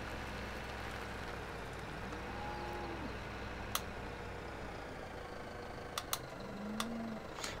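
Cows low a few times in Farming Simulator 17, soft drawn-out moos at a distance over a steady low hum of machinery, with a handful of faint clicks scattered through.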